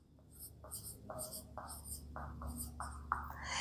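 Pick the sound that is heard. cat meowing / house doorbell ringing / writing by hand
writing by hand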